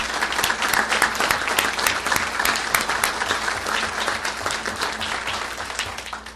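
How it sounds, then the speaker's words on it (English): An audience at a Las Vegas city council meeting gives a loud, steady round of applause that fades slightly toward the end, with a faint voice underneath. "Another round of applause,"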